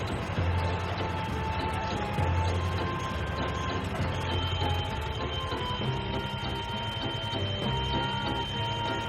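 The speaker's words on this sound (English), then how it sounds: "That beeping sound you hear is from the measuring stick." A concrete depth measuring stick beeps on a construction site while the ground floor is being finished, its tones recurring over a steady rumble of heavy machinery.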